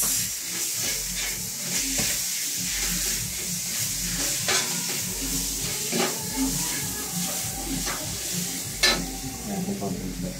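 Sautéed garlic-onion mix for tuna sisig sizzles and crackles in a hot pan with steady stirring and scraping, a continuous close frying hiss with occasional sharper clinks, no talking.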